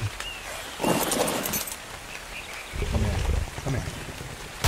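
Rain pours steadily in the video game ARK: Fjördur, with two heavy rumbling surges of thunder rolling through the downpour, loud and close.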